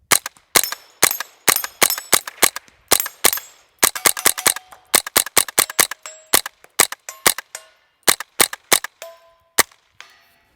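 Suppressed .22 rifle firing standard velocity ammunition: a rapid string of sharp, loud cracks, some evenly spaced and some in quick clusters, with short ringing tails and no talk.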